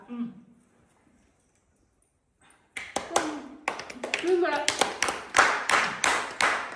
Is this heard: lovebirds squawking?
no